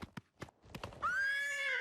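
A horse in the Oblivion video game clops its hooves in a few quick, close, solid beats, then breaks into a loud, sustained high whinny that carries to the end, with no voices.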